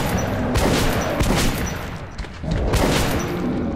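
Gunfire in the video game Metro, with repeated loud shots in uneven bursts up close, each with a booming tail and a short lull in between.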